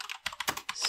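Quick clicking keystrokes on a computer keyboard as a Linux command is entered, about half a dozen crisp close taps in under a second.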